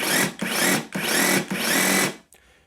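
Makita DUH523 18V cordless hedge trimmer running, a steady buzzing motor and blade whir with slight rhythmic pulsing, fairly loud and close, before cutting off near the end.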